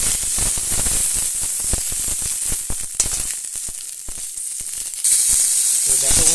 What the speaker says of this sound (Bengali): এবার চিচিঙ্গেগুলো আমি নেড়ে নিচ্ছি কড়াইতে।